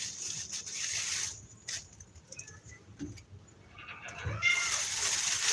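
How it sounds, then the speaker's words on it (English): A dramatic house cat meows faintly in a home near the fridge, its calls mixed with rustling and clatter, while a person talks. "my cat is extremely dramatic"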